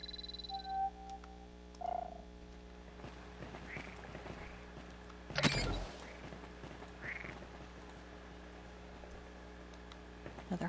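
Cute frogs croak in the video game Beyond Good & Evil, inside Vorax's Lair, with a few scattered croaks and one louder burst midway over a steady ambient game hum.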